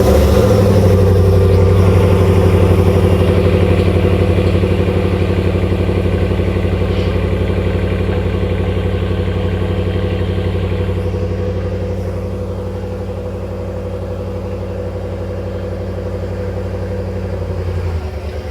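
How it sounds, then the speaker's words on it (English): A RAM 1500 pickup truck cold starts and idles with its stock exhaust before a Vibrant 1795 muffler install, a loud steady low drone that eases slightly after about twelve seconds and stays alone with no talking. "here's the cold start before the Vibrant muffler"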